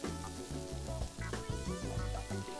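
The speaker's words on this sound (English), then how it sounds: "So we're trying to get a good sear. We're going to sear one side and flip it over." Beef stew meat sears in a pan with a continuous dense sizzle and low spattering crackle, fairly loud and close, with no voices.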